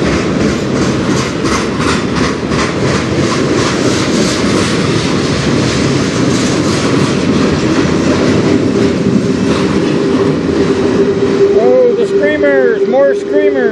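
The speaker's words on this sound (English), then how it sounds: "More screamers. These new very, very loud cars." Loud freight cars, the kind railfans call screamers, rumble past close by with clattering wheels on the Strathroy Subdivision, and rising, wavering squeals build near the end.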